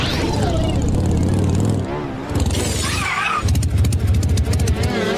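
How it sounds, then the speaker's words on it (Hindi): A cartoon motorcycle engine, heard as loud buzzing revs that rise and fall with a brief dip in the middle, mixed with background music and sound effects. "वो रही मोटरसाइकिल।"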